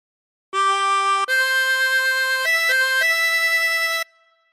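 A C harmonica plays the opening phrase of Amazing Grace as a smooth sequence of five or six sustained blown notes, close and loud, ending on a long held note that fades out.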